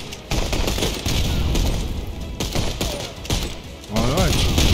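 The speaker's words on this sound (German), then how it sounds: "Weil sie macht wirklich tödliche Schüsse." Sniper rifle shots and gunfire from the video game Contraband Police, loud sharp cracks recurring through the stretch over continuous game noise, with a voice speaking briefly near the end.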